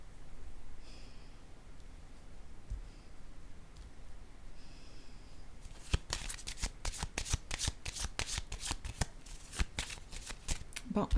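Tarot cards are shuffled close by, a quick run of crisp riffling snaps that comes after a few seconds of quiet breathing and small rustles.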